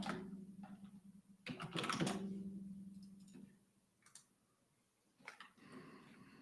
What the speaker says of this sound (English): Sorry, the keyboard is loud